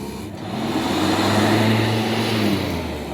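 A Hover Vac 270 hover mower's small engine drones steadily and labors under load for a few seconds, its pitch holding low and strained, with no voices.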